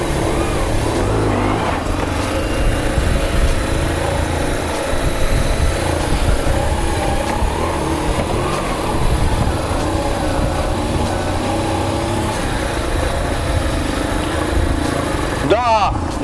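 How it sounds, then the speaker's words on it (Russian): A BMW R1150RT touring motorcycle rides and accelerates with a loud, steady engine drone and wind rush that carry on without a break for about sixteen seconds, heard close up from the rider's position. "я сейчас немножечко прокачусь, покажу вам динамику данного мотоцикла"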